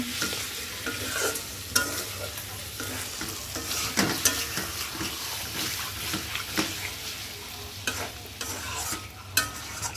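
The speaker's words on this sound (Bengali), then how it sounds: "এখন মাংসটা ভালো মতো কষায় নেব।" Meat fried and stirred in a pan while cooking khichuri, steady sizzling under frequent scraping strokes of a spoon, close and continuous with no voices.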